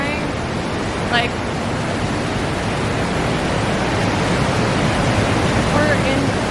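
Roaring waterfalls inside a giant cave at Lauterbrunnen, Switzerland, give a loud, steady broadband rush of falling water that fills the space without pause.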